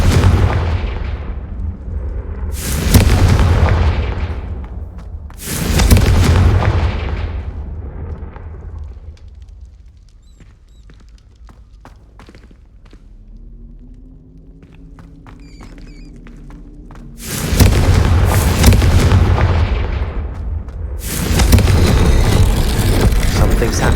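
Confringo blasting curses fired in Hogwarts Legacy, a run of loud booming explosions in two pairs with a quieter rumbling lull between them, heavy and close.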